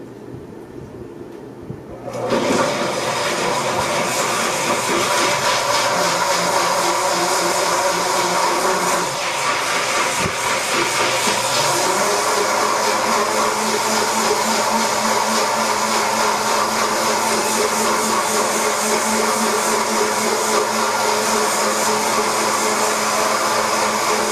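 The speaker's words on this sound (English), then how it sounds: "we're just going to whisk this away and we're going to make a basil dressing" A basil dressing being blended or whisked with a loud, steady motor whir that starts after two seconds of near silence and runs continuously, with no voices.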